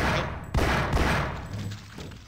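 A burst of gunfire in the video game Half-Life: Source, several sharp shots in quick succession, loud and close, then a fading tail.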